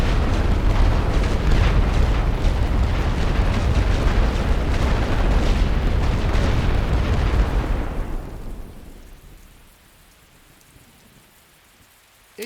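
Artillery barrage in The Great War: Western Front strategy game, a dense continuous rumble of distant shellfire that holds steady for about eight seconds, then fades away to near quiet.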